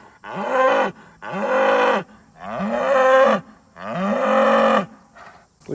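A cow moos repeatedly in a pasture while giving birth, four long, loud, close bellows with brief pauses between them and no talking.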